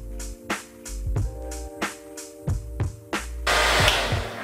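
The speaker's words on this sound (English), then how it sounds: "Now after you're done hitting it with the blow dryer," A handheld blow dryer runs on high heat with a steady whir, cut by repeated clicks and thumps at roughly half-second intervals, then swells into a louder, breathier rush of airflow near the end.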